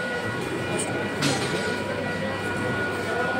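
Busy early-morning Sealdah railway station, a huge rail terminus crowded with commuters: a dense, constant roar of trains and station bustle, with a brief sharper clank partway through and faint voices buried in the din.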